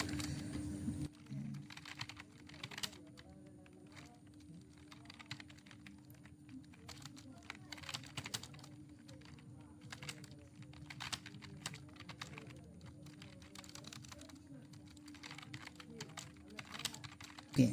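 Computer keyboard typing out an AI prompt for a landing page, a long run of quick, uneven key clicks close up at moderate level over a faint steady hum.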